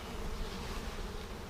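Honey bees hum around a package bee hive while it is fed, a steady, dense, close buzzing with no speech.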